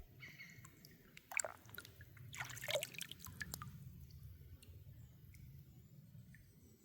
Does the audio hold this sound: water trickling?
yes